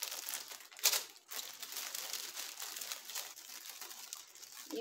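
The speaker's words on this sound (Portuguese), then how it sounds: "Eu vou pegar um pedacinho de durex" Adhesive tape crinkles as a small piece is pulled and torn off a roll while making a Mother's Day gift, with a brief sharper rip near the start and soft continuous rustling throughout, close and quiet.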